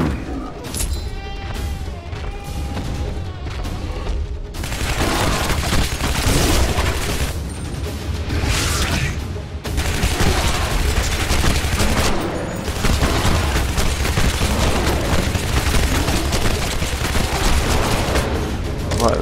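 Gunfire in the PC shooter Shadow Warrior, with loud, rapid repeated shots and booming impacts layered over game sounds, and a voice talking in places.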